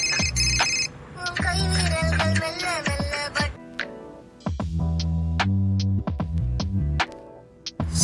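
A mobile phone plays a melodic ringtone in repeated phrases with short gaps between them, loud and close, and the call goes unanswered.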